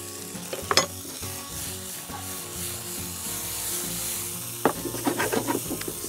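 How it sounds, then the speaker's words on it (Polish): Bell pepper and other vegetables sizzle steadily in a hot frying pan, a continuous hiss with a few louder stirring scrapes near the start and again toward the end, with no talking. "W międzyczasie podsmażę sobie warzywa. Najpierw zacznę od papryki, ponieważ jest najtwardsza."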